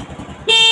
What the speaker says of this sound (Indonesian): Coba dinyalakan klaksonnya.